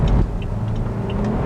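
Saab 9-5 Aero with the B235R turbocharged engine, heard from inside while driving: a steady, loud low rumble and road roar with no break, no voices.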